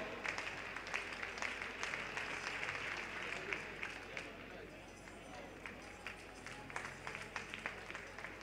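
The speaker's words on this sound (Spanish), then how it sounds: "nos pide palmas aquí no pasillo de triple" An indoor athletics crowd at a Galician track championship claps rhythmically for a final triple jump attempt, the regular claps sounding under an announcer's voice through a large hall.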